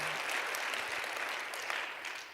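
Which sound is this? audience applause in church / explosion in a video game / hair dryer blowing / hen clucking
audience applause in church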